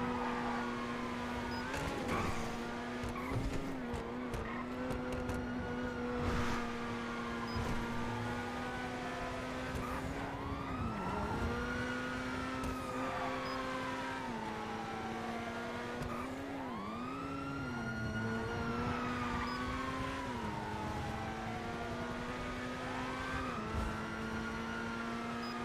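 A video game car driving with a continuous engine drone that rises and falls in pitch as it shifts through gears and accelerates, alongside a siren-like wail. It plays steadily throughout with no talking.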